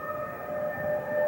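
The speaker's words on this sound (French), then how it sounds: "Vous entendez les sirènes du cortège qui arrive." Motorcade sirens wail steadily outside a cathedral in the capital, a sustained droning tone at moderate distance under faint crowd ambience.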